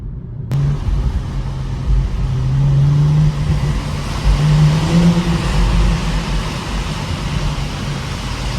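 A BMW 440i accelerates through a tunnel, its engine note rising and holding as a loud, close, echoing rumble that swells mid-pass and then eases off, with no talking.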